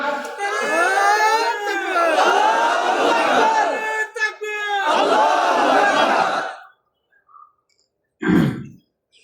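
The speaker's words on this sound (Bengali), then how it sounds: "তাকবীর দেন, নারায়ে তাকবীর।" A crowd at an Islamic religious sermon gathering shouts a loud, close collective chant of the takbir, several sustained voiced bursts in succession, then silence and one short final shout.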